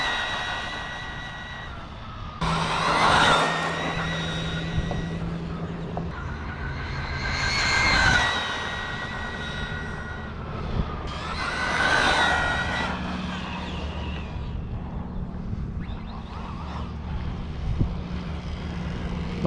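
Traxxas Bandit VXL and Arrma Typhon 3S V3 RC cars on a street in stock form, their electric motors whining up in three separate passes that swell loud and fade away against a steady low background hum.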